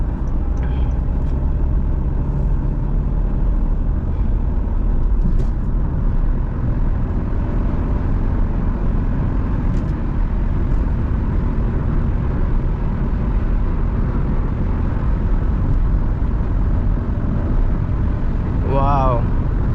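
An old car with 100,000 km on it drives along, its steady engine drone and road rumble continuous and close throughout, with a brief chirp near the end.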